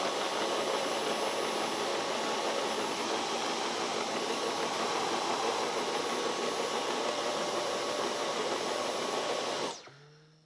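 A Dyson power mop's motor runs steadily at close range, a loud even whirring hiss with a high whine that holds for about ten seconds before the motor cuts off and spins down.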